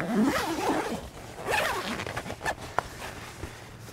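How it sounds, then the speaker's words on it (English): A bug net zip on a camping bivi is pulled closed in a few rasping strokes, close and clear, with small rustles and clicks after. "So I'm going to zip up the bug net."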